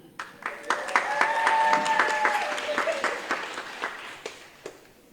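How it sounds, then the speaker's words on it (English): Applause at a Peace Corps volunteer swearing-in ceremony in Samoa, a swelling round of clapping that peaks and then tapers into scattered claps, with voices talking over it. "Another round of applause"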